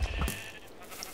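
Sheep bleating in the Minecraft Sheep Wars game mode, a short loud bleat at the start that fades quickly into quiet game background.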